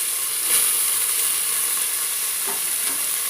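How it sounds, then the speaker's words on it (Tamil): Finely chopped onions sizzle and hiss steadily in a pan for vegetable pulao, a close continuous frying sound with faint stirring scrapes and no talk. "சின்ன சின்னதாக நறுக்கின வெங்காயம் சேர்த்து இதுவும் நல்லா வதக்கணும்."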